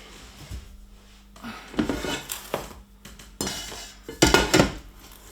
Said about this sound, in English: We're going to get this big pot here.